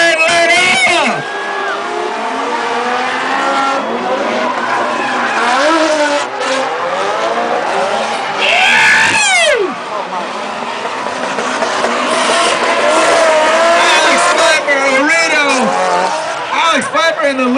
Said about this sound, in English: Look at the quadruple sideways drift.